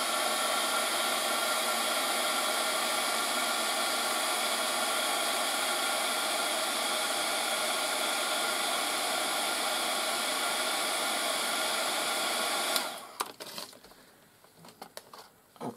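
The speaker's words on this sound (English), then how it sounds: "So let me just heat this with a heat gun just a sec." A heat gun blows steadily and loudly for about thirteen seconds while warming recycled wooden drink stirrers for mixed media art tongs, then cuts off, leaving faint handling noises.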